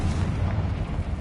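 Bombarda or Confringo spell explosion in Hogwarts Legacy, a dense, loud booming rumble that fills the whole short moment with no break.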